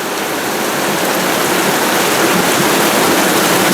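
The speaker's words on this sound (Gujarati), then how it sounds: "તો ધોધમાર વરસાદ ચાલુ થઈ ગયો" Heavy rain pours down in a dense, loud, continuous roar of broadband noise that stays steady and close throughout.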